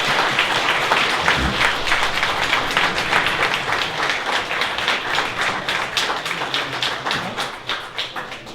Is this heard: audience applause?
yes